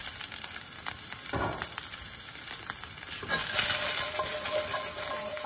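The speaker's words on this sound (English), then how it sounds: "So I'm gonna put these in my pan that's already got a little bit of olive oil in." New potatoes frying in a pan with a little olive oil: a steady, moderately quiet sizzle with occasional sharper crackles and a brief swell as the pieces settle in the hot oil.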